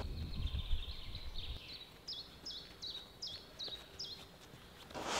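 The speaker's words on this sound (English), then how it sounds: "I can hear chiff-chaff here." A chiffchaff sings outdoors on a spring morning walk, a faint, evenly repeated series of thin, high notes over steady background hiss.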